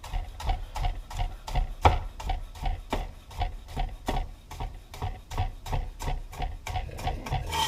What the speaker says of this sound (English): I'm just going to kind of finely chop the green onions